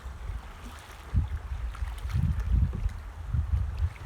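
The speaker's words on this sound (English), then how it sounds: "Just pull the paddle backwards and it stops it, and then turn it by using the paddles." A kayak paddled on calm water and brought to a stop, with low sloshing splashes from paddle strokes in a loose rhythm over soft outdoor wind, close and moderate, with no voices.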